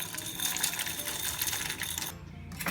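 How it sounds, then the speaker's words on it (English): Dry macaroni pasta tumbles into a cooking pot, a dense, close rattling clatter of hard little pieces that runs continuously, then briefly thins before resuming, with no talk. "remember to put the pasta in the pot as well"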